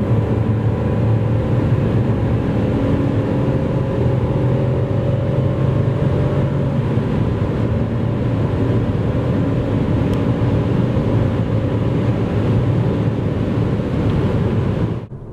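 Steady, loud road and wind roar from inside an MG ZS with a 1.0 turbo petrol engine as it accelerates from 90 to 140 km/h, with a faint engine tone climbing slowly beneath the noise.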